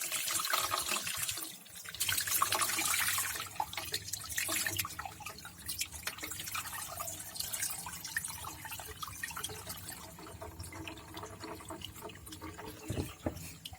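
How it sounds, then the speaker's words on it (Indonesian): Water poured off a container of tubifex worms, a steady splashing, trickling stream close by that runs for most of the clip and tapers toward the end, with no voices. "Habis itu kita buang airnya."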